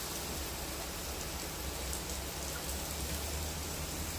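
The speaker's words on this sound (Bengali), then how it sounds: "এবার পিসি শাশুড়ি লুচিগুলো ভেজে নিচ্ছে।" Luchi, puffed Bengali flatbread, fry in hot oil in a home kitchen, a constant soft hissing sizzle with a faint crackle, steady and fairly quiet throughout.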